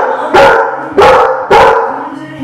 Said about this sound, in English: he's just like wagging his tail. He's like talking to me.